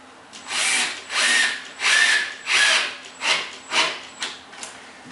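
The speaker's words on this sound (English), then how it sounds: "I'm using a drill" A drill drives screws into a plywood RTA cabinet, about eight whirring bursts in a steady rhythm, each rising and fading, close and alone.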